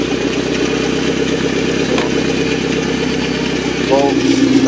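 Inboard engine of a 1988 Larson boat, an OMC 3.0 rated 120 horsepower, idling steadily with an even, throbbing mid-pitched rumble, close and loud throughout, the revs rising slightly near the end.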